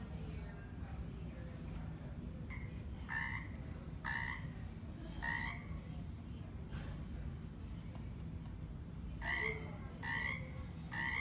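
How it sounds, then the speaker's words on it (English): Frogs croak in a backyard in repeated short bursts, some close together, over a constant low outdoor hum; no talking. "those are frogs in my backyard."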